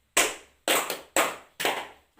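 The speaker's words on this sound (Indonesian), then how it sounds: "tepuk 1 kali, anak-anak ibu tepuk 3 kali" Children in a primary school class clap their hands in sharp, loud bursts of applause-like slaps, four quick clusters spaced roughly half a second apart, with no talking.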